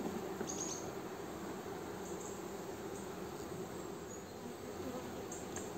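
A wild honeybee swarm drones steadily around its hive, a dense continuous insect hum at close range with no pauses and no voices.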